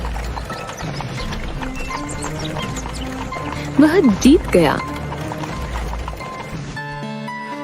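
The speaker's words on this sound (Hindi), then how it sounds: "तेज गति से दौड़ता हुआ एक घोड़ा आया और उससे बहुत आगे निकल गया।" A fast-galloping horse in a Hindi animated story makes a short burst of hoofbeats and a whinny in the middle, heard under a narrator's voice and background music.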